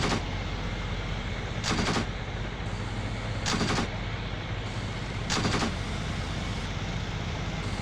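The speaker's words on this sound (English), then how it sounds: "What is he shooting at, though?" Gunfire from a soldier in the Achtung Panzer war game: three short crackling bursts spaced about two seconds apart, over a steady loud hum of battlefield ambience.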